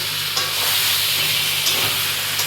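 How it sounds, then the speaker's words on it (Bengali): Ginger, garlic and onion paste fries loudly in a pan for a potato and bori curry, a dense continuous sizzle up close with occasional scraping stirs breaking through. "দিয়ে আবার একটু আমি নাড়াচাড়া করে নেবো এর মধ্যে দিয়ে দিলাম আদা রসুন এবং পেঁয়াজের পেস্টটা"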